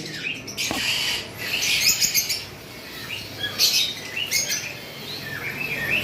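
Peach-faced male and lutino red-head female lovebirds chirp and squawk in bright, repeated bursts, fairly close, with short pauses between calls.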